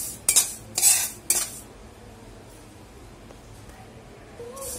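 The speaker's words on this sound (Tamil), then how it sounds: "நம்ம நல்லா வறுத்து எடுத்துக்கலாம் கொஞ்சம் நல்லா தெரிக்கும் கொஞ்சம் பார்த்து" Sesame seeds dry-roasting in a pan as a metal spoon stirs them, giving three sharp scraping clinks early on, then a quiet, faint crackle for the rest.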